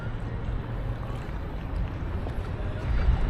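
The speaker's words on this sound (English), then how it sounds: "So we're now paddling over the wall." An Aquaglide Cirrus inflatable kayak paddles through flood water in York, producing a steady low wash and splashing, close to the microphone with wind noise, slightly swelling toward the end.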